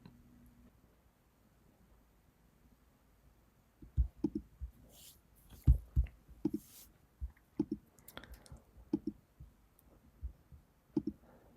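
Computer mouse clicks during a Git branch comparison, a scattered series of sharp, close, dry clicks, some in quick pairs, after a few quiet seconds, with no talking.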